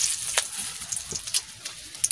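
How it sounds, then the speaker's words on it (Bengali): Dried red chillies hitting hot oil left over from frying fish, a close crackling sizzle with sharp pops and spits scattered over a short burst. "আমি কটা শুকনো লঙ্কা দিয়ে দিচ্ছি"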